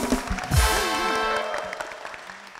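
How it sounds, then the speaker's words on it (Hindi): Talk show audience clapping to pick a winner, a short burst of applause that swells and then fades, with a voice speaking over it. "अब विनर का फैसला आपकी तालियों से होगा"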